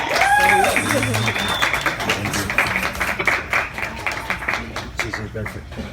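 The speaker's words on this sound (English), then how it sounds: "give a round of applause to Ettennae Vargas" Event audience clapping for a speaker taking the stage, a steady patter of applause throughout, with voices heard over it.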